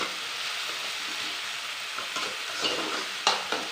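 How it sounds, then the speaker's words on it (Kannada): Tomatoes fry in oil in a pan for garlic saaru: a steady, close hiss of sizzling with occasional scrapes and clinks of stirring toward the end, no voices. "ಟೊಮೊಟೊ ಸೇರಿಸಿದಾಗ ಅದು ಚೆನ್ನಾಗಿ ಸಾಫ್ಟ್ ಆಗೋ ತನಕ ಎಣ್ಣೆಲೆ ಫ್ರೈ ಮಾಡೋಣ"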